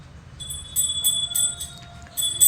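A small hand bell rings during an aarti prayer in quick repeated bursts, bright and metallic, fairly close, with brief pauses between shakes.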